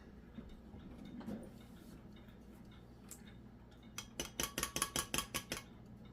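A spoon stirring a yeast mixture for homemade bread, a quiet low hum at first, then a quick series of about a dozen light, clinking taps against the bowl.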